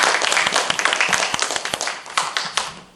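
Applause from an audience welcoming a monk who will host the session at a Buddhist seminar: dense, steady clapping across the room that thins and fades by the end.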